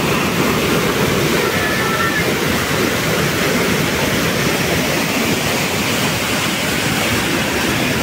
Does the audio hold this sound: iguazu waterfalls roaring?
yes